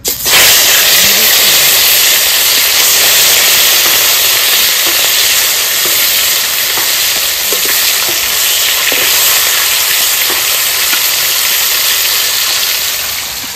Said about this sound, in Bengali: মাছগুলো সাদা তেল দিয়ে ভেজে নেব।